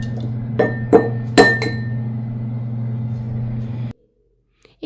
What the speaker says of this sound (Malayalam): എന്നിട്ട് ഒരു മഡ്ലർ വെച്ചിട്ട് നന്നായിട്ട് ഉടച്ചെടുക്കുക.